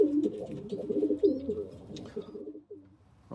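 Racing pigeons coo inside a loft, low throaty rolling calls repeating steadily at close range, with a few faint chirps and shuffles and no speech.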